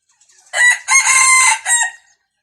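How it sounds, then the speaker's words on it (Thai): A breeding bantam rooster crows loudly and close by, one long full crow broken into several bursts, with no other sounds around it. "ขันเก่งนะครับ ขันเก่งนะครับ ไก่พ่อพันธุ์นะครับ"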